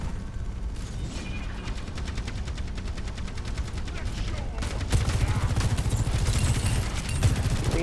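Rapid automatic gunfire in the video game Overwatch on the Kings Row map, dense repeating bursts that grow louder and busier halfway through, with players talking over the shooting.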